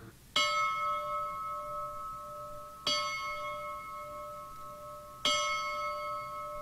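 Three single bell strikes at a firefighter's funeral, each a sharp metallic clang that rings out and slowly decays, evenly spaced about two and a half seconds apart, clear and close with no talk.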